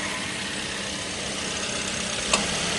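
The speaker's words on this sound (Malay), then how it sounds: "motor fan dia hidup guys" A car engine idles with its radiator cooling fan running, giving a steady, even rumble and whir at moderate loudness, with one brief click near the end and no voices.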